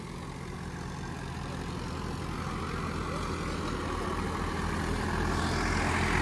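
A Mahindra 745 tractor ploughs a field, its engine giving a steady, loud, low rumble that holds constant throughout, with no talk over it.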